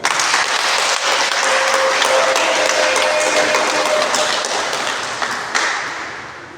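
A congregation at a thanksgiving mass for the inauguration of the Agapondu house bursts into loud, sustained applause that fills the space for several seconds before fading slightly at the end.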